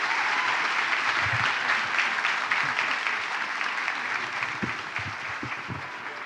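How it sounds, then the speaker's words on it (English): A large audience at a Global Citizen NOW event in Rio applauds the Prime Minister, sustained loud clapping that gradually thins out, with a few scattered low thumps and murmurs toward the end. "Let's give the Prime Minister a round of applause"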